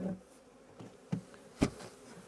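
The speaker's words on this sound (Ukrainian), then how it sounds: "що в нас там ще залишилося по бджолі в пастці?" Honey bees buzz inside a swarm trap in cold weather, a faint, steady low hum with a few brief, sharper rises as insects move about close by.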